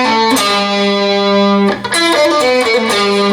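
Distorted electric guitar plays a slow riff, sustained notes with hammer-on and pull-off slurs, loud and up close, no talking.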